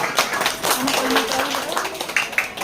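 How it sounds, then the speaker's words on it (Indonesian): A church congregation claps along during a worship service, with scattered hand claps mixed with murmuring voices and singing-like tones throughout. "Mari kita tepuk tangan untuk semuanya."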